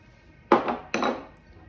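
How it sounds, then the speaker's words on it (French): Softened butter being mixed with brown and white sugar in a large mixing bowl, heard as two sharp utensil knocks against the bowl, each followed by a brief scrape, close and clear with no talk. "Dans un grand saladier, on va mélanger le beurre pommade"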